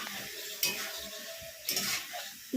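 Fried jackfruit and potato pieces stir-fried in a pan without water, a low sizzle broken by two louder scraping strokes of a spatula, close by.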